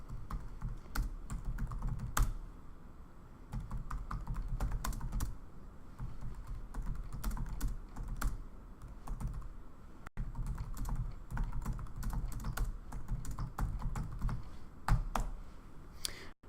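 Steady clicking of keys being typed on a computer keyboard, in irregular bursts with short pauses, close by and alone.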